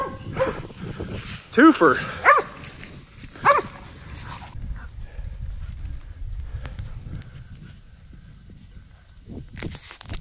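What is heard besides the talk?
cur hunting dog barking at treed raccoons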